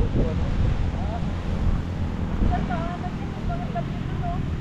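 Steady wind rushes and buffets across the recording, with faint voices and some higher tonal sounds drifting through in the background.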